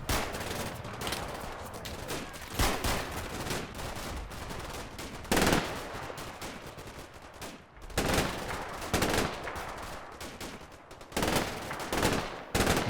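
Gunfire rattles back and forth as German troops assault a hilltop in the World War II game Combat Mission Final Blitzkrieg, with bursts of machine-gun fire, scattered rifle shots and occasional heavy, booming reports in loud, uneven waves.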